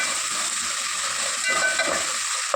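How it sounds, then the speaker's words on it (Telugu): Mint and coriander frying in hot oil tempering for bagara rice give a steady close sizzle and hiss, with light stirring clinks and a brief metallic knock near the end, no voices. "ఇప్పుడు కొద్దిగా పుదీనా అలాగే కొద్దిగా కొత్తిమీర కూడా వేసుకొని వేయించుకోవాలి."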